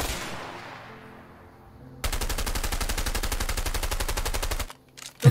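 Rapid automatic gunfire in the video game A Way Out, a steady loud burst of shots lasting a couple of seconds after a fading noisy rush, ending with a few scattered thuds.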